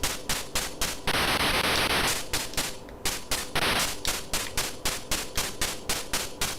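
Rapid gunfire from the ZX Spectrum game Line Of Fire, loud harsh noisy bursts in a fast regular rhythm, broken by two longer hissing blasts, with no talk.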